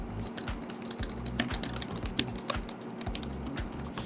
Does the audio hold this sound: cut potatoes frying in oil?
no